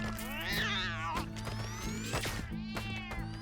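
Cat-like meowing cries from enemies in a bullet hell game, wavering high yowls repeating over a constant buzzing electronic drone and sharp hit sounds, with no one talking.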